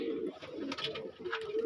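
Pigeons coo softly in a short low burbling phrase, fairly quiet and close, with no talking.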